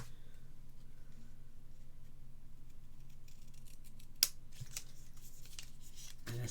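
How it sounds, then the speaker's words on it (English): Faint, quiet snips of scissors cutting paper to trim stamp album pages, with one sharp distinct cut midway and soft rustling and handling sounds around it in a still room. "Hold them and then cut into the corner. So let me get my longer scissors."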